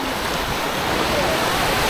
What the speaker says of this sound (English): There's some waves as well.